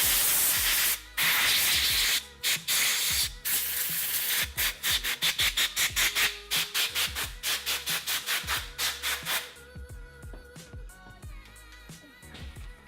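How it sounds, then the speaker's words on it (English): Compressed air blasts plastic shavings out of a GoPro housing and its lens housing: a long hissing blast first, then a rapid string of short, sharp puffs that gradually soften. "you're gonna wanna use some compressed air to make sure you get all of those particles out of there, especially out of the lens housing"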